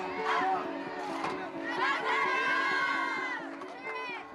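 A crowd of children cheering and shouting together, loud and high-pitched with sustained voiced yells rising and falling.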